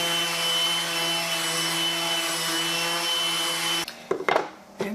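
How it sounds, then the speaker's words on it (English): Power sander working on wooden support boards for a Halloween countdown clock, a steady loud motor whine with a constant tone that cuts off near the end, followed by a few knocks and handling sounds. "I suppose I ought to go ahead and sand these support boards as well"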